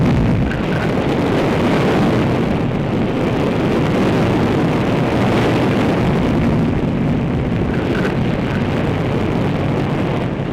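An archival recording of the Explorer satellite rocket launch: a loud, continuous roaring rumble that holds steady and dense throughout with no pauses.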